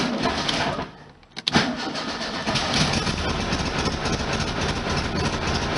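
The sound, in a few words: 1973 VW Super Beetle engine starting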